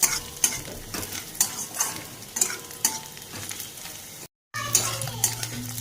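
Onion frying in a pan for Szechuan fried rice, with a steady sizzle broken by rhythmic spatula scrapes and metallic taps, heard close up with no talk and a brief dropout near the end.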